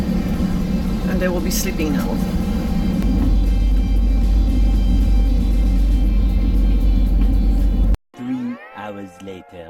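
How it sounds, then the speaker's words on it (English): An airplane takes off with a steady, loud engine roar and deep cabin rumble, a low drone that continues for several seconds before cutting off abruptly. A voice talks briefly over the noise. "Okay, we're taking off."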